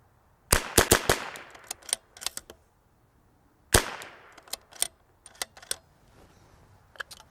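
Rimfire bolt-action rifle shots fired at a target with cheap ammunition, sharp cracks spaced a few seconds apart with smaller clicks and handling noises between them, close and loud against a quiet range.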